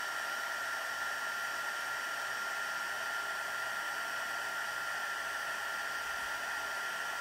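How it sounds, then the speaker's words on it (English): Heat tool blows continuously as it melts white embossing powder, a steady hairdryer-like whoosh at moderate level, constant and unbroken with no talking. "So now I'm gonna grab my heat tool"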